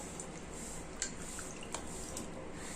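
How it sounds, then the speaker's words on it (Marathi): Soft splashing and dripping water with a few sharp clinks, steady and close, as knife-cut potato fries are rinsed a second time in a bowl of water. "आता दुसऱ्या पाण्याने धुत आहे"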